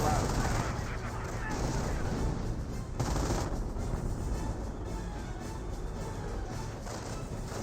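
Sustained automatic gunfire and scattered shots pour onto a rifleman squad in the WWII strategy game Company of Heroes, a dense rattling barrage under a commentator's talk.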